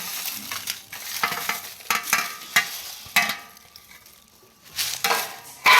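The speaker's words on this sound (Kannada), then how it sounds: "ಜೀರಿಗೆ ಸ್ವಲ್ಪ ಇಷ್ಟಾದಾಗ ಈ ಮೆಣಸಿನ್ಕಾಯಿ ಕರಿಬೇವು ಹಾಕೊಳ್ಳೋಣ" Dry red chillies and curry leaves frying with cumin in a pan for North Karnataka-style peanut chutney powder, crackling and sizzling with repeated stirring scrapes and clatter against the pan, loud and close.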